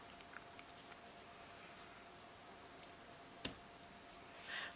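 Beading thread is cut off with small scissors on a bangle bracelet, making a few faint, sharp snips close by in an otherwise quiet room.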